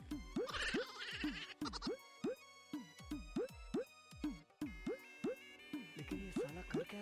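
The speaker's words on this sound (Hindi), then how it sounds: "हमारा बकरा कहाँ गया?" A sacrificial goat bleats over and over in short, rhythmic cries that sit over background music, close and steady throughout, with no speech.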